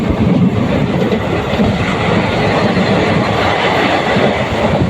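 A passenger train runs at speed between Tiruchirappalli and Puducherry, its steady rumbling roar and clickety-clack of wheels on rail continuous and loud throughout.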